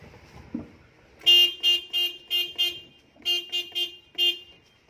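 Horn of a Hino Dutro truck after its horn relay was fixed, giving a quick series of loud, close honks: five short blasts, a pause, then four more, with no talking over them.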